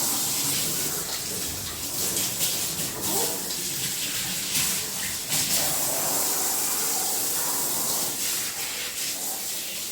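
Water sprays and runs steadily from a hose or tap while a dog's face is being washed at home, a soft continuous hiss with splashing, with a voice talking faintly now and then.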